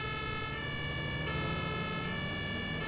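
A fire engine siren in the driving game Emergency Call 112, a loud sustained electronic wail with steady harmonic tones over a low engine rumble, continuous and close.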